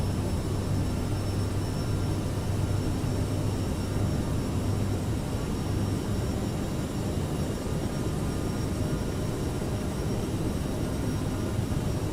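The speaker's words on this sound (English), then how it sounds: "the plane is trying to climb to 3700, I guess" Aerosoft CRJ regional jet engines in Microsoft Flight Simulator roar during a climb, a loud, steady, unbroken broadband rumble with a faint high whine on top, continuous throughout with no talking.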